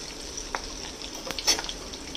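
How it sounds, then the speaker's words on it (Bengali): Cumin seeds and two green chillies frying in oil as a tempering for a pumpkin and hilsa fish head dish, a soft steady sizzle with a few brief crackles and pops, close and alone. "1 চামচ জিরে আর 2টো কাঁচা লঙ্কা ফোড়ন। এটা হালকা করে একটু ভেজে নেব।"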